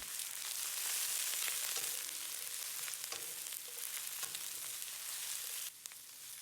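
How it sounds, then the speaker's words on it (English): Green onions, garlic and bok choy stir-frying in hot oil in a wok, a loud steady sizzle broken by occasional scraping stirs, close and with no talk. "Stir fry to release the fragrance. Now add the bok choy in."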